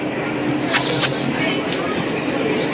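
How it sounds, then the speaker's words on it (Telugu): The Ooty toy train on the Nilgiri mountain railway, a continuous rumble with rattling carriages and a couple of sharp clicks, heard close, with a person speaking over it. "సో మన టాయ్ ట్రైన్ వచ్చేసి ఇదే అనమాట."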